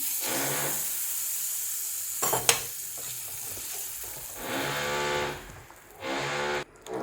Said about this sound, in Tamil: இப்போ ஒரு 10 போல் முந்திரி பருப்பு நமக்கு நெய்யில் ஃப்ரை பண்ணி சேர்க்கலாம்